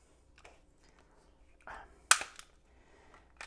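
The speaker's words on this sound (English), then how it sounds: "you're going to have to press the trigger" A Glock pistol's trigger is pressed during disassembly, giving one sharp, close metallic click with faint handling rustle before and after.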